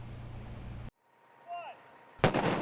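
Children's illegal firecrackers blowing apart a watermelon, a loud crack after a moment of silence, preceded by a low rumbling bang, the sharp burst close and abrupt.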